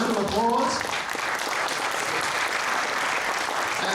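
A small audience at a chocolate workshop applauds as a speaker comes up, close, loud clapping with a voice briefly heard at the start.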